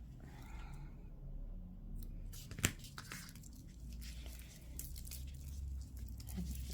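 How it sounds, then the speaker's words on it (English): Scissors snip crochet yarn once after the ends of a Santa napkin ring are woven in and fastened off. The single sharp cut stands out over a low, steady background hum. "Give it a snip."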